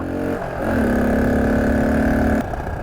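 A 1968 Honda CT90 motorcycle engine on a ride, a steady buzzing single-cylinder drone that climbs to a held, even pitch, then drops abruptly as the throttle closes.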